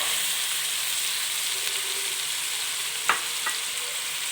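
Peas join mixed vegetables of cabbage and potato frying in a pan over lowered flame, a steady moderate sizzle broken by a sharp utensil clack and a lighter tap near the end.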